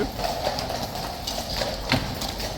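Steady clip-clop of horses' hooves echoes through a tunnel as mounted Horse Guards ride past at a walk, each strike crisp and near.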